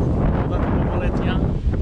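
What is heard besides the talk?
wind blowing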